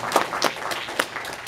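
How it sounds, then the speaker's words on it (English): Church congregation applauding in praise, a soft, steady patter of many hands clapping at moderate distance. "clap your hands and give God praise for His word"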